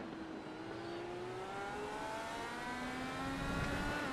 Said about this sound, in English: Sounds like there was a little feather of the throttle, not brave enough to go pedal to the metal.